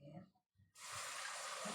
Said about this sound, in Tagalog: Ugasan natin yung takip.